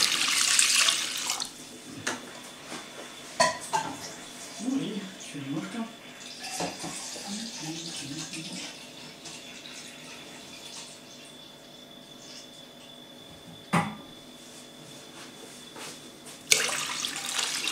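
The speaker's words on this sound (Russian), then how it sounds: "Сюда 750 грамм воды необходимо залить в эту емкость." Water is poured into a container for instant kharcho soup, a steady splashing stream that runs across the clip, with someone talking over it at the start and short knocks along the way.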